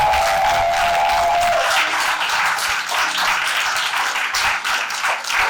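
A church congregation at a French-language worship service applauds and cheers, a dense, steady wash of clapping and crowd noise filling the whole stretch at a fairly loud level.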